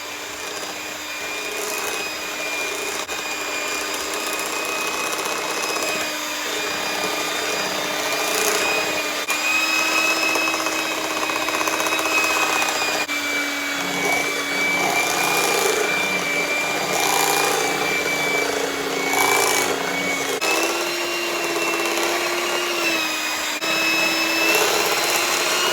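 An electric mixer beats flour into sweet potato cheesecake snickerdoodle cookie dough with a loud, steady motor whine that holds for the whole stretch and shifts pitch slightly as the load changes.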